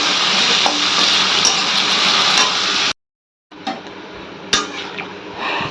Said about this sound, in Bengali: আলু দিয়ে লবণ আর হলুদ দিয়ে দিয়েছি এটা ভাজা ভাজা হোক